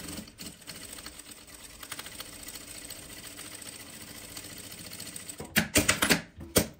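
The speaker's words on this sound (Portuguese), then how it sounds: "Aqui eu vou costurar" A domestic sewing machine stitches fabric scraps together for a patchwork piece, running in a steady close rattle that swells into louder, faster bursts near the end.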